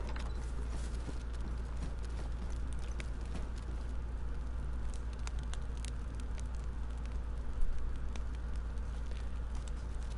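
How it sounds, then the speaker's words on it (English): A fireplace fire burns in the video game DayZ, a quiet, continuous crackle with scattered small pops running evenly throughout. "does it sound like this fireplace is still burning?"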